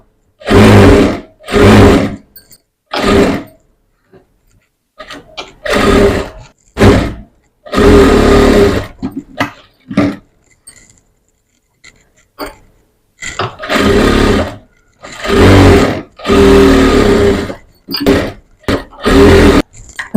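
A sewing machine stitches blouse fabric for back-neck piping, running in loud, close motor bursts of one to two seconds, separated by short pauses, repeated many times.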